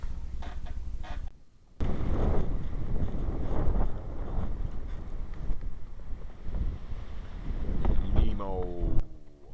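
Blizzard wind roars hard against the microphone outdoors, blowing snow off the ground in a loud, steady buffeting rush that drops out for a moment near the start and then returns, with a voice at the end.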